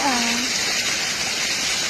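Steady, loud rush of a strong waterfall at Po Toi O, Clearwater Bay fills the whole clip, a broad continuous roar with a voice briefly audible at the start.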